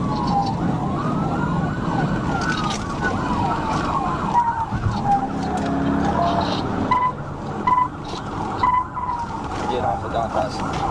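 A police car's wailing siren sweeps up and down over steady road and engine noise during a highway chase, with short radio-like bursts and voices mixed in.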